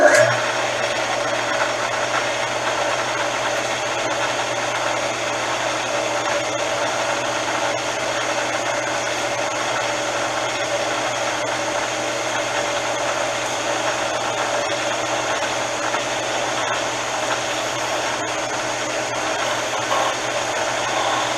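A brand-new combination lathe turns a piece of scrap bronze destined to become a hammer, giving a steady, unbroken machine whine and hum that holds at an even level throughout, with no talking.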